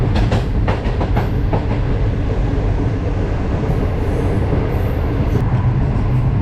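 The Green Line passenger train between Lahore and Rawalpindi rumbles along at speed, a loud steady roar of wheels on track with faint clicks early on, heard from inside a carriage.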